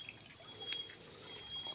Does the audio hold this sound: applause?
no